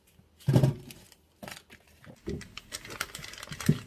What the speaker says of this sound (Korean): 가위를 이용해서